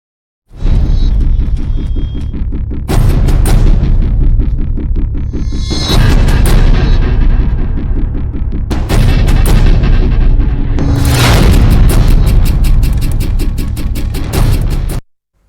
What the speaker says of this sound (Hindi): सभी सनातनी पूरे उमंग के साथ लगातार आतिशबाजी हो रही है।